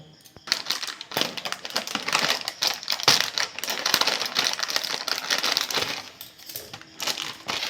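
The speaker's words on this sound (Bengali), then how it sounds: "2 প্যাকেট সিমুই নিয়েছি, সিমুইগুলো কেটে নেব" Packets of semai vermicelli are cut up by hand, with dense crisp crackling and snapping of dry strands and crinkly packaging close up, continuing without talk.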